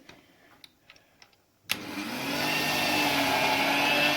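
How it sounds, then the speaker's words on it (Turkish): A few light taps and clinks, then an electric hand mixer switches on abruptly and whirs steadily through homemade vanilla ice cream, its motor whine rising slightly as it keeps running. "Şimdi ise mikserimle karıştıracağım."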